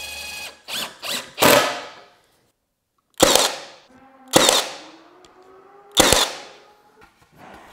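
Nails being driven through a wooden window trim board at a cabin, heard as six sharp, loud, percussive hits in small clusters separated by short silences, close by and with no talking.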